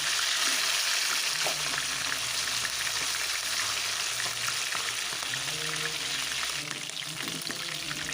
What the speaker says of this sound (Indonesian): langsung aja goreng ayam yang sudah diungkep. Goreng ayam hingga matang dan kecoklatan.